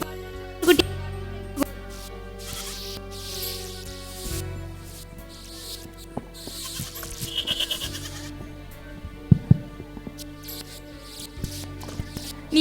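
Lamb bleats during a Sunday school children's stage performance, several short wavering calls spread across the scene amid hall noise and occasional footsteps.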